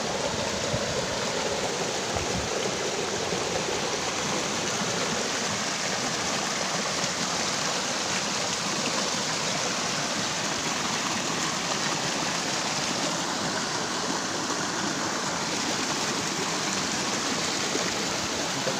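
Waterfall and stream at Tanay, Rizal, a constant rushing hiss of falling and flowing water that stays even and unbroken throughout, with no one talking.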